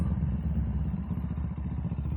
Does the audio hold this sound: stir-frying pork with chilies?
no